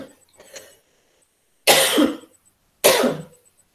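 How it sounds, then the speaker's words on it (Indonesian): Two loud, sharp coughs from a man giving an online lecture, each a harsh burst separated by silence, preceded by a few quieter throat noises. "Saya batuk dulu ya."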